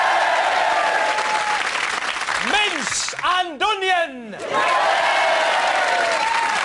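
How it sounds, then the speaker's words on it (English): Studio audience applause on a comedy variety show, a steady broad wash of clapping running through the whole stretch, dipping briefly in the middle while a voice speaks over it. "let's have a big round of applause for various meat and vegetable products combinations"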